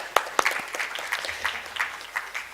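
Scattered applause from a conference audience in India, a light patter of claps with a few sharper hits, fairly quiet and thin as if from a small or distant group.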